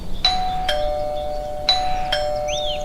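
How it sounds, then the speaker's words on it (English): A two-tone doorbell chimes twice in a row, clear bright ding-dong rings at a house door in the Australian outback, with faint background hiss between them. "Daddy Pig rings the bell."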